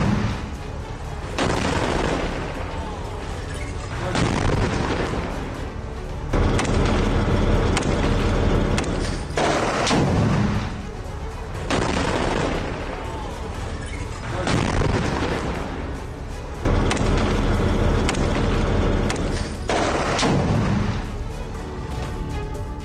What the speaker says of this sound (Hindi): हमास और इजरायल के बीच गाजा में दोनों तरफ से हो रही है भीषण गोलाबारी